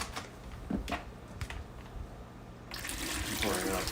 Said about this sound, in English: pouring out some of the water,